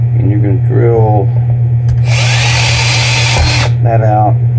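A power drill whirs loudly for about two seconds while drilling out a part, close by, between bursts of someone talking over a constant low mechanical hum.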